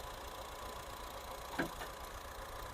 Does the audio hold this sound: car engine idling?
yes